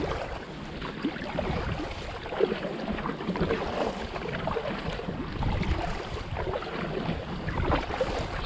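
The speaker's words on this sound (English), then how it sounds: "Oh, this kayak's easy to paddle." A kayak is paddled across open water, giving a continuous wash of splashing and rushing water with soft wind noise and faint knocks, steady and close throughout.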